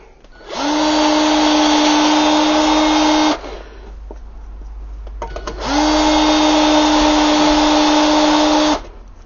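A converted drill-driver deburrs a freshly drilled 8 mm hole in the exhaust of a HEMI engine, spinning up in two loud, steady high-pitched bursts of about three seconds each, separated by a brief quiet pause.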